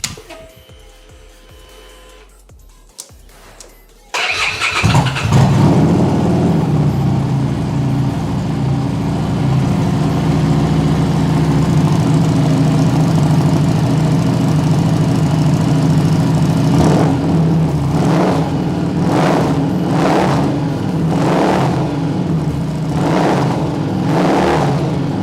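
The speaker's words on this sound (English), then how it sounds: "Okay, let's start this up, listen to it run." Harley-Davidson Street 750 motorcycle with low mileage starting up after a quiet lead-in, then settling into a loud, close, steady idle, with several sharp throttle blips near the end.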